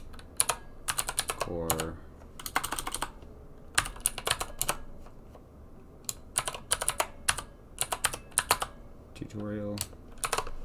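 Bursts of computer keyboard typing, fairly close and crisp, come in several clusters separated by short pauses, with a brief spoken phrase partway through.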